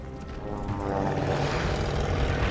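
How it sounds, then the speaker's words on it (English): A propeller warplane in Call of Duty: Vanguard's desert mission drones overhead, its engine roar swelling quickly from moderate to loud and holding as it passes close. "That's a plane!"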